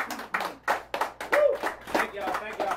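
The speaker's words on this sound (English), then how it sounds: "Everybody clap it up." Scattered audience clapping welcoming Big Fred at a youth event, uneven bursts of handclaps in a loose rhythm, with voices calling out over them.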